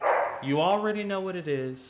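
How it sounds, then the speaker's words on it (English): Dogs bark in the background of a home, short yapping bursts partly masked by someone talking over them close to the microphone. "Sorry for the dogs barking."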